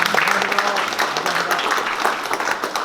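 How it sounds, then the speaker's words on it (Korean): Applause of thanks fills a forum meeting hall, a dense, steady burst of many hands clapping close by that carries on throughout. "다시 한번 감사의 박수를"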